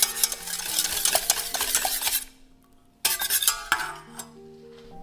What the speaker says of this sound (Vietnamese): mình đánh, mình trộn cho tan đường.